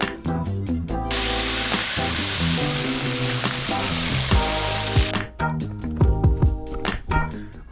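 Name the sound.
french fries frying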